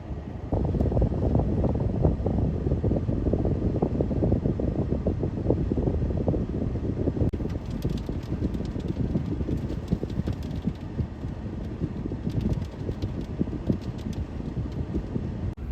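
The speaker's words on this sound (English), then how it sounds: "Oh my gosh, it's so windy." Strong, steady wind roaring and buffeting against a truck, rocking it, a constant low rumble with gusty rattling throughout, no talking.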